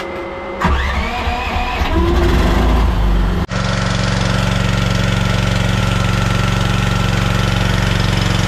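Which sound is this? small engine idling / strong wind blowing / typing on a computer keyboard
small engine idling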